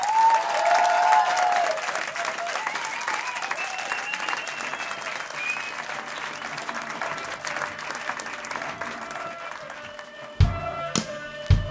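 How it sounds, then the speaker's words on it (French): Audience applause and cheering for a performer at a French music show, a dense, steady wash of clapping that thins toward the end, followed by a few sharp taps and bumps. "Applaudissements"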